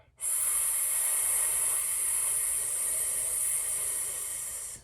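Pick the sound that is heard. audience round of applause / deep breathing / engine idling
deep breathing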